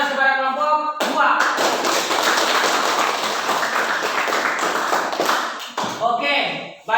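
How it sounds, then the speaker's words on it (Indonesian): A classroom of students claps for group 2, a dense, close round of applause lasting several seconds. A teacher speaks briefly just before it starts and again as it dies away. "Mari kita berikan aplaus kepada kelompok 2."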